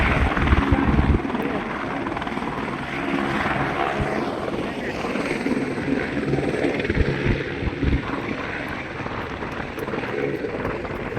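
A helicopter flies overhead along a Louisiana nature trail, its steady rotor chop and engine drone loud and continuous throughout, with some wind buffeting on the microphone.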